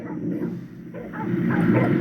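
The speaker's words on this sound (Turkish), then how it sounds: "Evet canlı yayında köpek saldırısı." Dogs bark and yelp at a cyclist riding at night outdoors, a steady close clamor of several animals with whimpering yips, loud throughout with no clear pauses.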